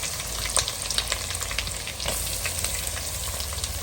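Tempering sizzling and crackling in a hot pan as curry leaves and grated fresh coconut are added, a steady close frying hiss with small pops and stirring scrapes.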